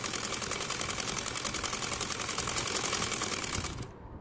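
A sewing machine stitches salwar fabric for a kundo wali salwar in a fast, steady run of rapid mechanical pulses. It stops abruptly just before the end, leaving only faint room noise.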